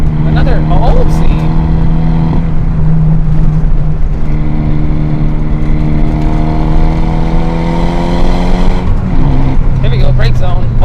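A car fitted with a big brake upgrade slows hard on a canyon road, engine tone sweeping down steadily under loud cabin noise, with people talking excitedly over it.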